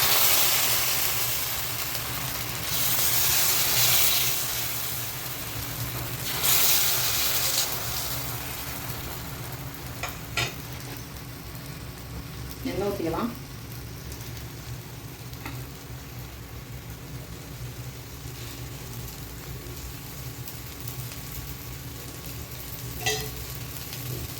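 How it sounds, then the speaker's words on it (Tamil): Wheat dosa batter sizzles steadily on a hot dosa griddle, a continuous broadband frying hiss with a faint low hum and a brief scraping clatter midway, no talking. "தோசைக்கல்ல அடுப்பில் வச்சாச்சு ரவா தோசை மாதிரியே ஊற்றிக்கணும்"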